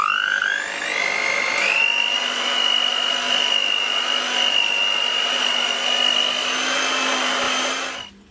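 An electric mixer whirs steadily while blending sugar with desiccated coconut for a no-bake piña colada cheesecake, a loud, close motor whine that rises at the start, holds even and cuts off at the end.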